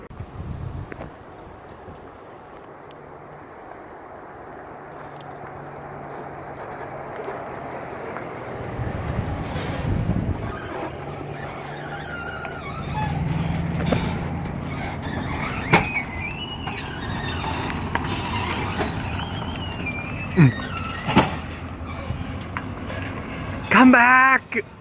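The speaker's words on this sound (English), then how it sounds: "Here comes the truck." A pickup truck rolls up at an RV park, its engine rumble building gradually and then idling nearby, with squeaks, clunks and people talking over it toward the end.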